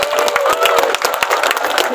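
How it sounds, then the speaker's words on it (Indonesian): Gathered school principals at a Banten anniversary health-walk event break into brisk, loud applause, a dense run of sharp hand claps close by with a crowd murmur behind. "Tepuk tangan untuk kepala sekolah"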